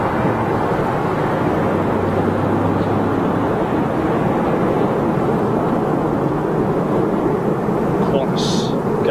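Air India Boeing 787 Dreamliner touching down at London Heathrow at sunrise: a broad, steady jet roar fills the whole stretch, with voices talking beneath it.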